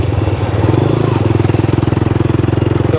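A Yamaha Raptor 125 ATV engine held under throttle, a loud, close, steady pulsing drone with a brief rise early on, then a smooth even rhythm throughout.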